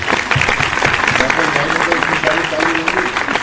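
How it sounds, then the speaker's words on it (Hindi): Audience clapping at a mushaira poetry gathering at Aiwan-e-Ghalib in Delhi, a dense steady patter of hands in a hall lasting the whole stretch, with a voice murmuring over it. "बहुत शुक्रिया मैकेश भाई, एक आध ताली बजा दो यार मेरे हिस्से में भी आनी चाहिए।"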